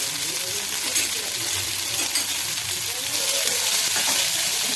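Sprouted green gram tipped into about a tablespoon of hot oil sizzles and crackles steadily, a bright continuous fry noise with a few clinks and stirring sounds, loud and close.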